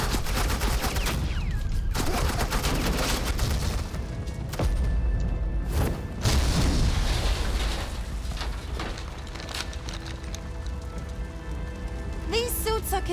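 Suppressing gunfire in Batman The Enemy Within rattles in dense rapid bursts, with sharp heavy shots breaking through a crackling, rain-like barrage, and a faint voice underneath.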